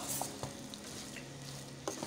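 Nigerian fried rice stirred in a pan with a wooden spoon, a steady close sizzle of frying under a few soft scraping knocks, no voices.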